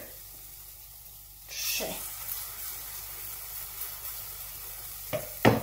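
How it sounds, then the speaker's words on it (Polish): Yogurt pancakes sizzle in a frying pan, a low hiss that swells into a louder, bright frying crackle partway through. Brief scraping and clattering from the pan comes near the end, and a voice speaks a single word. "trzy placuszki schodzą, a następne wchodzą na naszą patelnię"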